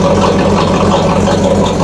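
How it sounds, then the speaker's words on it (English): A 1984 Camaro Z28 V8 idles steadily up close, its exhaust leaking from the downpipe into the sideways-mounted muffler, giving a loud, continuous rumble with a rough, puffing edge. "an exhaust leak I just discovered from the downpipe going into the muffler"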